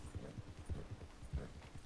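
A horse in the Red Dead Online game gallops up a mountain, its hooves beating a quick, even clip-clop rhythm close by at low volume, with nothing else over it.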